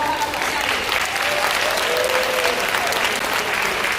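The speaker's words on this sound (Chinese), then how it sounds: "我们再次的掌声，谢谢我们这6位的乐师" An audience applauds six musicians who flew in from Taiwan for a Dadaocheng Legend stage show, a dense, steady clapping close up for the whole stretch while a voice speaks over it.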